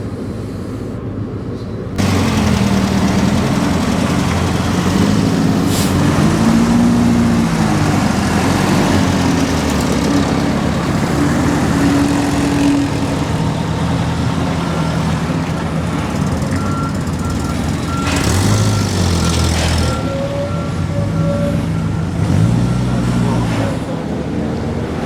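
A vintage bus at Christchurch Park idles with a steady low engine rumble, broken by repeated reversing beeps and some background voices and outdoor noise.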